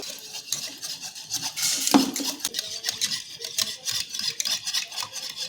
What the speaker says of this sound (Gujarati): તો આ રીતે બધું જ હલાવીને સરસ મિક્સ કરી લેવાનું છે।